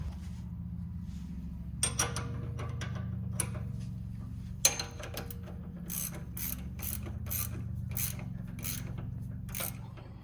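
A hand ratchet tightens bolts on the disconnects of a lifted 2020 Jeep Wrangler Rubicon, giving quick rhythmic clicking strokes close up over a steady low hum in the background.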